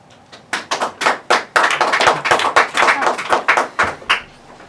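Audience applause at a school board meeting, a burst of many hands clapping that swells quickly and sustains for several seconds before tapering off, with scattered individual claps standing out at the start.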